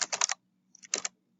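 Quick bursts of keystrokes on a computer keyboard, two short clusters of clicky taps separated by a brief pause, close and clear with nothing else heard.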